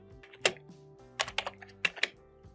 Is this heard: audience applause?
no